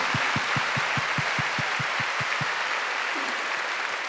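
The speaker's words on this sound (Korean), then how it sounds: "우리 사모님, 우리 유가족들 한번 격려에 박수 한번 쳐주시기 바랍니다." A church congregation at a Wednesday worship service applauds to encourage the pastor's wife and bereaved family, with a run of evenly spaced, low thumping claps over a broad wash of clapping that thins toward the end.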